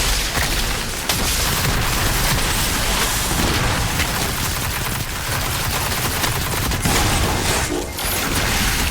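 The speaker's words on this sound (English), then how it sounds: "I know there's a bunch of things shooting from around me" Enemy gunfire in the shooter Destiny 2, sustained loud automatic shooting and booms layered into a dense, nonstop clatter with a few sharper cracks standing out.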